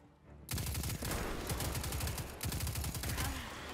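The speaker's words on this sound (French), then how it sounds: "On envoie plein de balles en 2 secondes" Rapid automatic gunfire from a weapon in Destiny 2: a dense, fast stream of loud shots that begins abruptly after a brief quiet start and continues without pause to the end.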